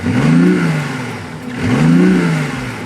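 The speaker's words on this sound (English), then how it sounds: "I'm guessing that's like the acoustic noise that they add to make it sound a bit throaty" Synthetic exterior engine sound from a BMW i8's eDrive system, played as two rising-and-falling revs, each swelling to a throaty peak then easing off, loud and close with no talking.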